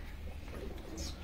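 Pigeons from a prize-flying breed coo softly and continuously in a loft, a low murmuring coo over a steady noisy background with no talk.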